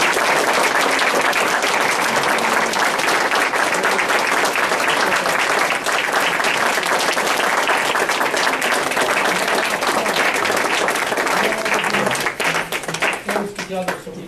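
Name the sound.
applause from council meeting audience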